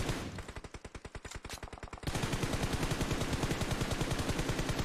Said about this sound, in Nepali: त्यसपछि तपाईँ र म मिलेर फायर गरिराख्नु नन फायर गरिराख्नु